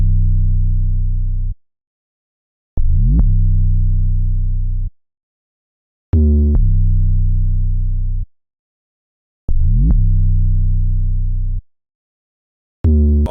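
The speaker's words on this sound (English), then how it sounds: "And here's the pattern for the 808." A deep 808 bass pattern from an 808 sample in FL Studio plays alone: long booming notes with pitch-gliding attacks, separated by short silent gaps in a slow, repeating rhythm.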